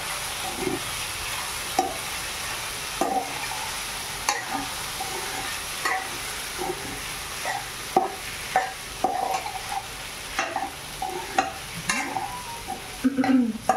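Sabudana (tapioca pearls) stirred and fried in oil in a pan over a low gas flame, giving a steady soft sizzle broken by repeated scraping stir strokes, close and fairly loud with no talk.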